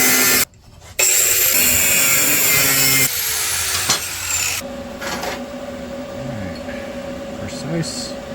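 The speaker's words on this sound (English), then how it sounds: "Now I'm gonna go cut it out of my fancy metal" Metal being cut for a scratch-built 1/10 scale RC crawler: a harsh, loud, gritty rasping that runs almost continuously, breaks off briefly near the start, then continues as a duller grinding hum.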